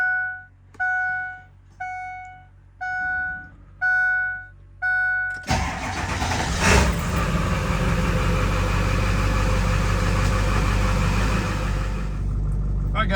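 A 2003 Ford F250 with the 7.3 diesel gives a series of six evenly spaced warning chimes, then the engine cranks and catches with a loud clatter and settles into a steady, rumbling diesel idle.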